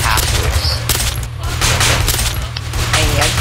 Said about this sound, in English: Bobby, there's a lot of guys shooting at us